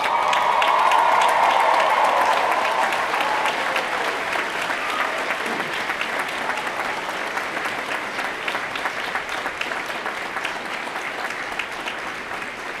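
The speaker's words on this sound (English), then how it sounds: "give a round of applause to those who helped you on this journey" Graduating students at a university commencement applaud their families and friends, a large crowd's sustained clapping with light cheering, loudest at the start and then settling into a steady roar.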